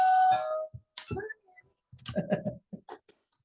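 A toy doorbell on a small play door rings with a brief bright electronic chime, followed by a person talking nearby.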